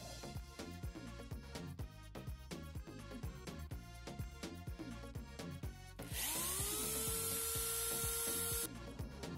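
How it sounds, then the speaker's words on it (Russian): A rhythmic scraping, grinding pulse repeats for several seconds as a worn tile bit works on ceramic tile, then the electric drill whines steadily at high speed before cutting off. "Для этого я взял обычный дрель. Нашел у себя насадку для сверление кафеля"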